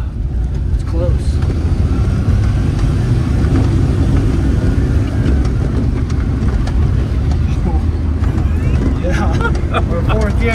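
A Suzuki Carry mini truck engine drones loudly in fourth gear, a steady low rumble with road and wind noise, recorded from inside the cab while people talk over it.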